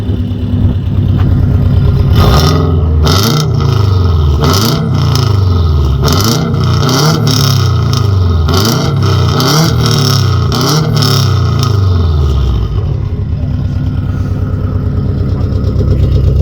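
A Subaru Forester engine with a straight-through header and exhaust revving repeatedly close by, each throttle blip rising and falling through a raspy, open-sounding exhaust.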